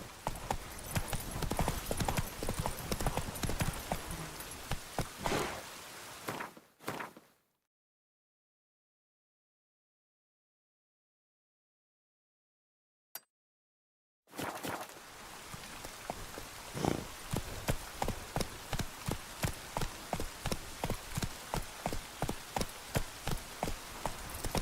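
Roach the horse trotting in The Witcher 3, hooves clip-clopping in a steady rhythm with rain pattering, cut by several seconds of silence and a single click before the hoofbeats resume.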